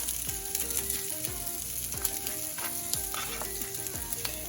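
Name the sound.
Spam frying in a pan for fried saimin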